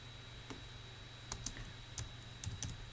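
Keys tapped on a computer keyboard while entering a command to deploy a Rails app, several quiet clicks in small irregular bursts over a steady low hum.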